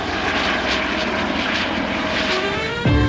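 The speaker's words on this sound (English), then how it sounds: "off for a ride in the family helicopter" A family helicopter in flight gives a steady, fairly loud engine and rotor drone, shifting to a lower, rougher tone near the end, with no talk.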